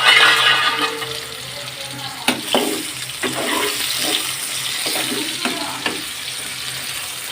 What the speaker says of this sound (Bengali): আমি ভেজে নিব তেলের মধ্যে